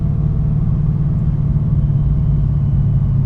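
Steady low engine rumble from a 600-horsepower Chevrolet SS while driving, a continuous, fairly loud drone heard from inside the car with no talking.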